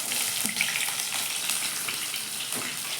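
Cumin and mustard seeds fry in hot oil in a home kitchen pan, making a continuous loud sizzle flecked with small crackles and pops, with no talking.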